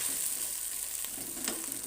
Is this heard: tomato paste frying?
yes